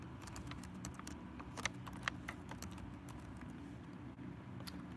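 Soft keyboard typing as a password is entered, quick irregular clicks heard close but faint over a steady low rumble of a car or engine in the background.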